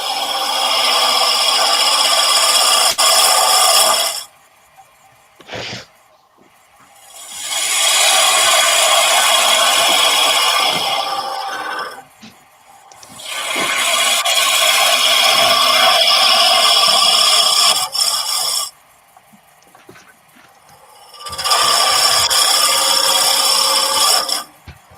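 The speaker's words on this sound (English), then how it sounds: "you've got to get rid of the waste timber out of the way so the chisel's got somewhere to go into" Chisel cutting away waste timber in four long rasping, scraping passes, each several seconds, separated by quiet pauses with a single sharp knock in one gap; close and fairly loud.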